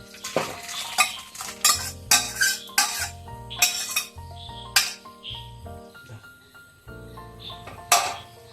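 Cooked dried red chilies and green chilies scraped and spooned from a pan into a clay pot, with repeated clanks and scrapes of metal utensils against cookware, close and moderately loud, in uneven bursts.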